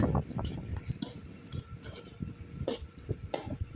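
A spoon works cooked rice into tamarind gravy for temple-style puliyodarai, giving light clinks and scrapes against a metal vessel with soft, sticky stirring sounds in between, close and fairly quiet.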